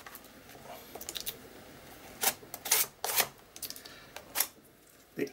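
Paint layers scraped across a mixed media art journal page, heard as a run of short, dry scratchy strokes in irregular bursts, close and fairly quiet with no talking.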